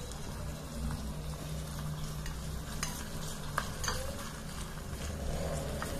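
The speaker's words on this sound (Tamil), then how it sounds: "இந்த சின்ன வடச்சட்டியில் வந்து நம்ம வதக்கிறது வந்து சூப்பராக இருக்கு." Onions sizzle and sauté in a miniature pan for mutton biryani, a faint, steady frying hiss broken by occasional light scrapes and clicks of stirring, with no talking.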